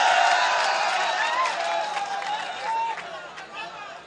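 Audience at an Ujhari mushaira applauding as the poet Hashim Firozabadi is introduced, a broad steady wash of clapping mixed with crowd chatter and a few calls, loud at first and easing off slightly.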